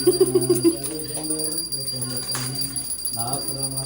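A temple bell rings in a quick series of strikes at the start, then fades beneath people talking nearby during a Pithori Amavasya observance.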